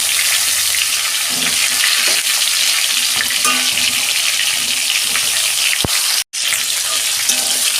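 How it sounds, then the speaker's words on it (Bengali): Pointed gourds (potol) frying in hot oil, a loud continuous hiss and crackle with scattered pops and stirring clinks, and a short break near the end. "তেল আমার গরম হয়ে গেছে, এবার পটলগুলো দিয়ে দিচ্ছি।"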